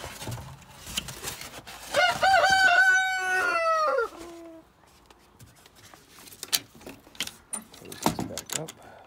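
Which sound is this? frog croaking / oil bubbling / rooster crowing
rooster crowing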